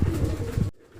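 A pigeon suffering from twisted-neck disease gives a single short, close, throaty coo that stops abruptly.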